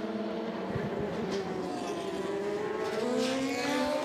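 LMP1 and LMP2 prototype race cars sweep through the Porsche curves, engines droning and shifting pitch as they pass in a sustained, fairly distant blend.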